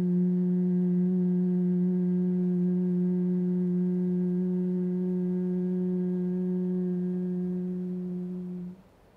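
A single person hums one long, steady low note for a breathing exercise, a bee-like buzz sustained evenly for about eight seconds before it fades and cuts off.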